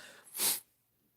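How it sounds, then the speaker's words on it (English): A single sharp sneeze bursts out close to the mic and loud, lasting about a quarter second, preceded by a faint intake of breath and followed by quiet. "Nah, I'm sneezing, man."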